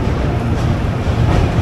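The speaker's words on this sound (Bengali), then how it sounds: "আমাদের ট্রেনটাও ছেড়ে দিল কলকাতা থেকে জম্মু তাওয়াইয়ের পথে" A second-class passenger train pulls out of Kolkata bound for Jammu Tawi, a steady loud low rumble of wheels and carriage noise filling the whole moment without a break.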